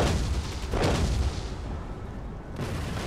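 Cannon fire in the Empire: Total War strategy game, with booming artillery shots rolling into a dense, rumbling barrage that stays loud throughout.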